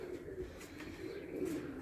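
Homing pigeons coo softly in a loft, a faint, steady low murmur that carries on through the whole stretch with no voices over it.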